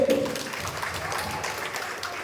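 Brief applause from the audience at a primary-school Aswaja quiz final, honouring team D, a steady patter of clapping at moderate level, fairly close.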